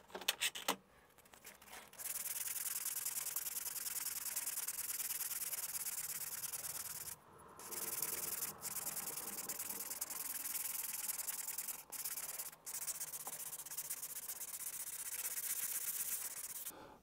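A wooden pike jerkbait lure sanded by hand with fine sandpaper: close, steady scratchy rubbing strokes run continuously for long stretches, broken by a few brief pauses and small knocks, with no talking.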